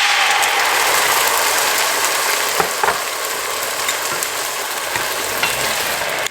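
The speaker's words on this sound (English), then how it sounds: "So I'm going to use ginger garlic. And just I'm going to fry this just for a minute, 1 minute. Okay, so now I'm going to add this tomato here." Tomato tipped into ginger and garlic already frying in a pan gives a steady, loud broadband sizzle with a few sharp clicks and scrapes of stirring, continuous throughout without any talking.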